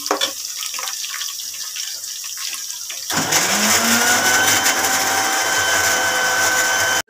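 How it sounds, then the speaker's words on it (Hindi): A kitchen blender grinds a paste of ginger, garlic and green chillies: a soft lead-in, then a loud steady whirring motor that cuts off abruptly at the end. "वो डाल ब्लेंड कर लेते हैं।"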